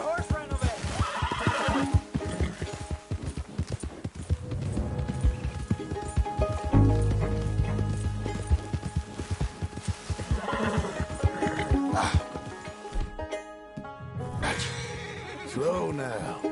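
A horse neighs loudly amid clopping hooves, with people talking over the commotion as a runaway horse is calmed; the whinnies rise and fall across the stretch.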